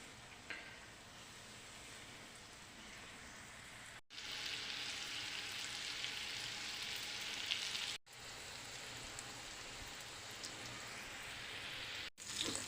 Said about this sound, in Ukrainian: поки в нас жаряться тефтельки